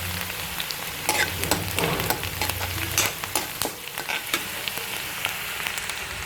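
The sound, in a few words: food sautéing and sizzling in a pan until translucent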